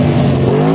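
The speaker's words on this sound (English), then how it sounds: "Matt, let's have a listen to your car with turbochargers and stuff." A turbocharged Aston Martin engine revs loud and close, its strong harmonic growl climbing in pitch over a brief burst.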